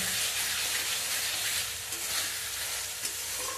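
Spices sautéing in hot oil in a pan: a loud, dense, continuous sizzle with a faint occasional scrape of stirring, steady throughout with no voices.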